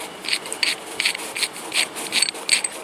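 A 3/8 bolt is turned into a Wheel Horse tractor, producing a rapid series of short scraping, rasping strokes in an even rhythm, close up and alone with no voices.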